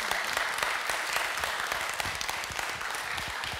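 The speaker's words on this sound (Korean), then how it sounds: "여러분 큰 박수 부탁드립니다" Audience applause for a choral conductor at a church music concert: dense, steady clapping from a crowd that fills the whole clip at full strength and stops abruptly at the end.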